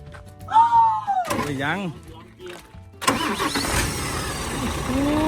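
An Isuzu 6HK240 truck diesel engine cranks and catches near the end, settling into a rough idle after an earlier stretch of voices talking close by.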